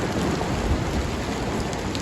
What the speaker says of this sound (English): this is a mix of rain and snow